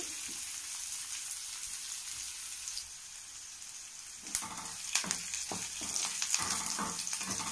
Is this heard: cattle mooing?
no